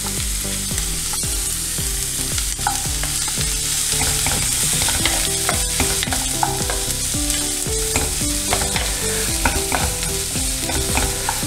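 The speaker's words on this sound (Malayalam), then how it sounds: "സവാള ഇട്ടിട്ട് അല്പം ഉപ്പും കൂടി അടി കൊടുക്കുക." Medium onions with a pinch of salt fry in hot oil while a spoon stirs them constantly, producing a loud, continuous sizzle with rapid scraping and clinking against the pan, close up and without voices.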